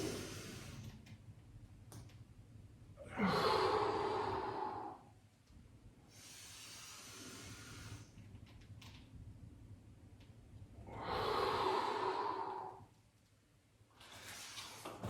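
Slow, deep breaths during a seated thoracic mobility exercise, with two long, loud breathy inhale-exhale cycles and quieter breathing between them, close and with no talking.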